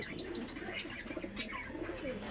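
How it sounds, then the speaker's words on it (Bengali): An Andhra pigeon gives soft, low, rolling coos, faint but close, with a few small chirps and rustles mixed in. "দেখুন পায়রা"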